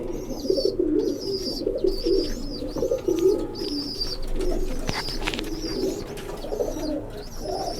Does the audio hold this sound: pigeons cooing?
yes